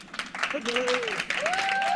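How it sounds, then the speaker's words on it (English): Audience applause for a speaker being welcomed at a women's economy event, clapping spread across the room, with a voice speaking over it in tonal, sustained bursts. "let's give a big round of applause to Eunice from McKinsey."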